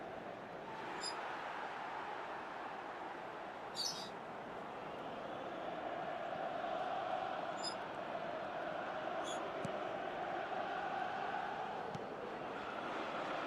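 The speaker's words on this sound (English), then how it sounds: "the crowd have tried to spark some excitement, but to no avail" Stadium crowd murmur in an eFootball match, a steady broad wash of distant crowd noise with a few faint high chirps and whistles, fairly quiet and continuous throughout.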